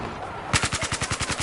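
Rapid automatic gunfire in the video game Battlefield 4 starts abruptly halfway through, a steady burst of around ten shots at an even rhythm, fairly close and loud.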